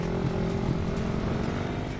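ATV engine revving loudly and steadily as the rider throttles, a dense close buzzing drone with a slight rise in pitch, no pauses, dominating the scene.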